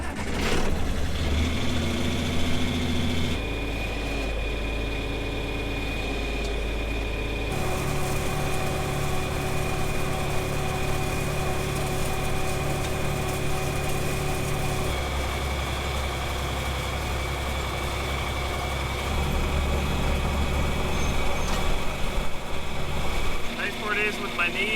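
A power-shift farm tractor engine runs steadily at a constant idle-like drone with a low rumble and a whining tone, shifting pitch slightly at a few points, loud and close throughout.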